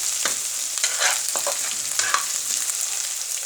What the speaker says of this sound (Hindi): अदरक लहसुन का पेस्ट, इसको मैं अच्छा से भून लेती हूँ।